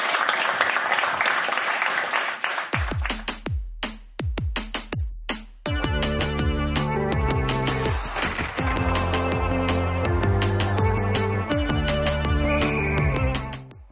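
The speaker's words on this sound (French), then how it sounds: "Un moment d'applaudissement pour la gang de la balustrade." Audience applause at a live podcast taping at ZooFest 2017: a short burst of dense clapping opens, then gives way to loud, rhythmic music that carries on to the end.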